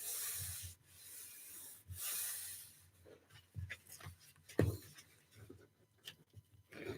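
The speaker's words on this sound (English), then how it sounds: "I just sit and trim it the whole pad down, or however many sheets you need" Sheets of a 9 by 12 inch paper pad are trimmed down to 8.5 by 11 for a junk journal, giving soft, intermittent rubbing and scraping strokes with brief pauses, close and fairly quiet.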